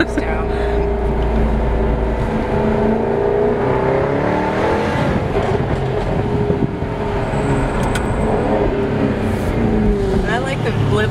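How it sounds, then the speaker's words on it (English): A car's engine hums and rises in revs with a throttle blip on a 2018 Houston Auto Show floor, a steady motor drone heard close up, with people talking over it. "I like the blip of this car."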